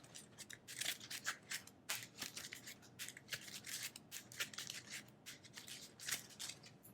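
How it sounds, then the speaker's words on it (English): A deck of game cards for a Marvel deck-building card game being shuffled close by: continuous papery riffling and rubbing bursts with a quick, uneven rhythm, fairly quiet and with no voices. "And I have to shuffle everything."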